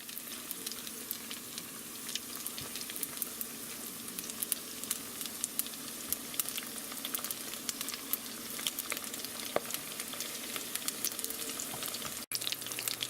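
Mini shrimp egg rolls fry in a pan with a steady, close sizzle and crackle of hot oil, carrying on without a break and with no voices, cut off sharply near the end.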